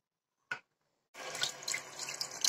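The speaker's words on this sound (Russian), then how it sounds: "Наливаем холодную воду." After a brief knock, cold water runs steadily from a tap, splashing and gurgling as it pours into a pot holding jars for canning sorrel.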